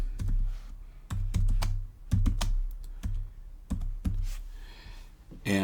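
Fingers type on a computer keyboard in short, close bursts of clicky keystrokes separated by brief pauses, with a steady low hum in the background.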